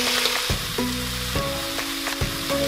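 Onion dropped into browned wild boar meat in a pot for goulash soup, a loud crackling sizzle broken by several sharp clanks and scrapes of a utensil, with faint ringing tones between bursts.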